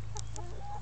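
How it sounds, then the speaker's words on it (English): Chickens on a family farm give a few short, soft clucks over a steady low background hum, brief and fairly close. "Wow, look at all the chickens. You hear them? The noise they make?"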